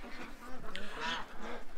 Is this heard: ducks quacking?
yes